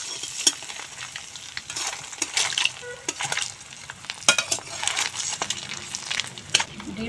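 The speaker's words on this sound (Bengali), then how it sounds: "এখন ডিম উল্টে পাল্টে ভেজে নেব।" Eggs turned over and fried in mustard oil with turmeric and salt give a soft, ongoing sizzle broken by the scrape and clatter of a spatula, close by and fairly quiet.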